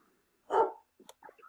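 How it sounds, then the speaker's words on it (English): A dog, worked up by cold weather, gives one sharp, fairly close bark followed by a few faint, short yips or whimpers in an otherwise quiet room. "That's your dog."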